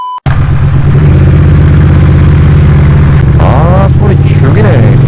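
A Triumph Bonneville T120 motorcycle engine runs steadily with a deep, throbbing idle, loud and close, with brief revs near the end and faint voices underneath.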